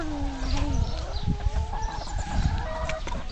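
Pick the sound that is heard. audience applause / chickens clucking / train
chickens clucking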